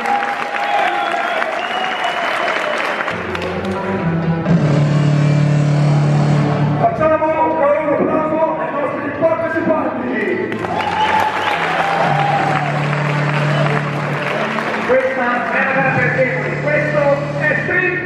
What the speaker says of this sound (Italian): Facciamo un bel applauso, bravi.